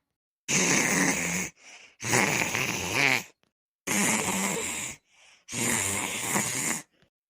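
A voice imitates loud snoring: four long, rasping inhales, each followed by a short, softer breathy exhale, in a slow repeating rhythm.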